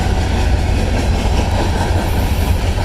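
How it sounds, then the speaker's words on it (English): A freight train rolls past close by, a loud continuous rumble and rattle of wagons with steady rail noise throughout. "that's a freight train"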